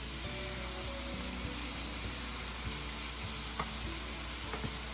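Fire-roasted diced tomatoes dropped into a pan of sizzling garlic: a constant hiss and sputter with a low steady hum beneath and a few brief clinks of a utensil, with nobody speaking.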